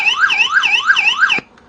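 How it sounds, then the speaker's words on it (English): A siren tone from a small Lukasa solar-powered portable FM radio with a built-in Bluetooth speaker: a rising and falling wail repeating about four times at a steady pace, thin and fairly loud, cutting off abruptly near the end. "A siren, which is not very effective."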